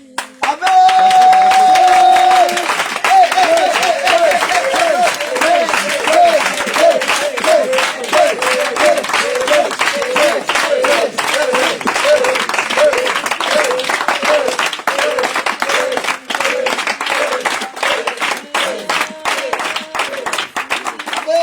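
A revival prayer-night congregation keeps up loud, steady rhythmic clapping and cheering for over twenty seconds, with sustained voices and tonal music woven under the dense claps.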